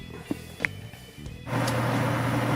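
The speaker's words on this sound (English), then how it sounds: "sorry about the extra noise from my exhaust fan on my spray booth" A spray booth exhaust fan switches on partway through and runs as a steady, droning hum after a few quiet handling clicks.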